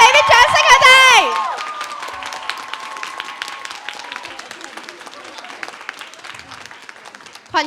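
Audience applause and cheering for the lead performers at a student society's graduation-night stage show, loud and dense at first, then fading into scattered clapping and crowd murmur.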